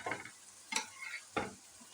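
Eggplant pieces tipped into a pan of fried tomatoes and onions, stirred with three distinct scraping bursts amid a soft, steady sizzle, close and moderately loud.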